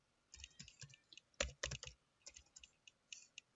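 Root password typed on a computer keyboard during an openSUSE Leap 15.1 Linux server installation, a quiet, close run of irregular key clicks with a quick cluster of taps in the middle.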